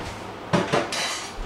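Squid ink scraped off a container lid with a utensil in a home kitchen, heard as a few short, close scrapes and clinks against the lid, fairly loud and without talk.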